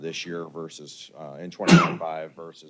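A brief, sharp sneeze cuts through a man's continuous speech during a police board meeting, a single burst heard near the microphone under the talk.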